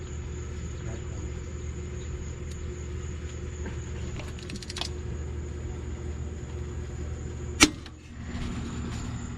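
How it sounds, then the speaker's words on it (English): A torque wrench snaps with a single sharp, loud crack while tightening a rocker bolt on a 1995 Saleen Mustang, over a steady background hum with faint clicking earlier. "So on film you heard something snapped, and it sounded like we broke the bolt"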